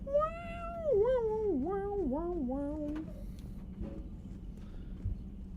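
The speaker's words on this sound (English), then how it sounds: "And my cat is energetic right now." A pet kitten meows repeatedly and energetically up close, a run of wavering, rising-and-falling cries, with a soft background hum underneath.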